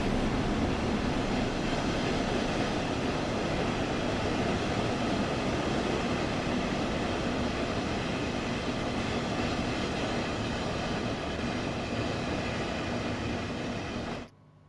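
DB BR 143 electric locomotive running in Train Sim World 2, a steady broadband rumble and hiss of rolling wheels and motors, even and sustained before cutting off abruptly at the end, with no speech.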